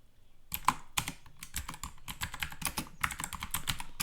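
Code is typed on a computer keyboard in quick, close, irregular keystrokes with brief pauses between bursts and no talking.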